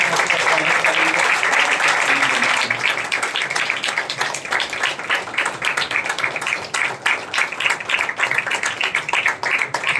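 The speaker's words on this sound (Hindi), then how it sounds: "तो हम जोरदार तालियों के साथ में रेवरेंड पास्टर चांद मसीह बिशप का स्वागत करेंगे।" A church congregation applauds loudly in welcome of a bishop, brisk clapping running steadily throughout, with a dense burst at the start that settles into a rhythmic patter.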